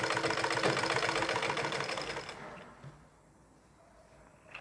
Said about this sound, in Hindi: तब हमें सिलाई चलानी है